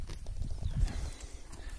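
Hooves of a half-bred Kabardian horse clip-clop in a soft, uneven walking rhythm, fairly faint under steady outdoor noise.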